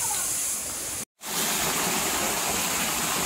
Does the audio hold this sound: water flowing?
yes